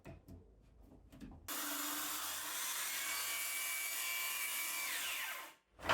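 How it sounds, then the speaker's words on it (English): A circular saw rips through a live-edge cedar board guided along a speed square, a loud sustained whining cut of several seconds that ends abruptly, after a few light knocks. "Set my blade depth and used the speed square as a fence for running the cut."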